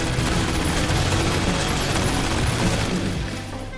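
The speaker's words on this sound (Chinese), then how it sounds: "贝利跟大壮挣脱束缚，捡起地上的枪，与后面冲上来的小弟进行互射" A dense, loud exchange of gunfire rattles in an action movie sniper shootout, with rapid overlapping shots forming a continuous barrage that eases slightly toward the end.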